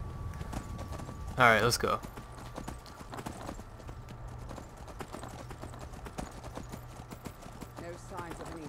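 Horse hooves in the game Skyrim clip-clop in a steady rhythm throughout, with a loud neigh early on and a fainter one near the end, while someone speaks briefly.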